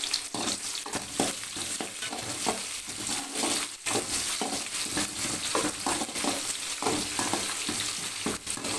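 Curry leaves and chopped onion fry loudly in hot oil in a pan, a dense continuous sizzle broken by repeated scraping stirs of a spoon, with no one talking.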